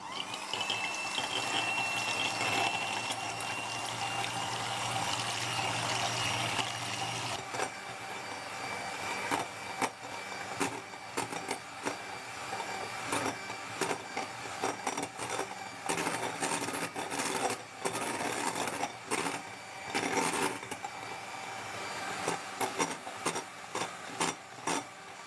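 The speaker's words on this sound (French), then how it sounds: "On va maintenant monter les blancs en neige" Electric mixer beating egg whites to stiff peaks for a chocolate birthday cake, a steady motorized whirr with rattling against the bowl, loud and continuous, shifting in tone after the first few seconds.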